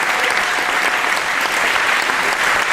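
Loud, steady applause from Garden Club members at an annual membership meeting, a dense continuous roar of many hands clapping.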